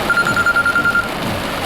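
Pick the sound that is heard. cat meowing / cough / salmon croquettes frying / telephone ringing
telephone ringing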